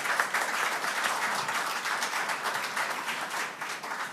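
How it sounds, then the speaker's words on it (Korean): An audience at a party convention acceptance speech in Korea applauds, a dense, continuous clapping from many people that stays fairly steady with slight swells. "큰 박수 부탁드리겠습니다"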